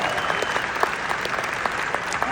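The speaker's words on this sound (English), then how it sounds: "how about one more big round of applause for Angelica Teixeira" Dense audience applause at the Arnold Classic bodybuilding event, a steady wash of many hands clapping in a large crowd, continuous and moderately loud throughout.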